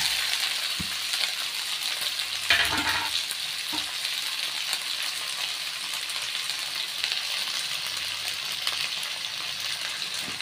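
A steady hiss of ivy gourd, potato and onion frying in a pan carries on throughout, with a few sharp clinks of a utensil early on.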